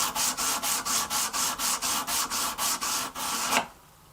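Hand rubbing back and forth along an oiled, heat-treated knife blade, about fourteen rhythmic scraping strokes at an even pace, close and fairly quiet, stopping abruptly near the end.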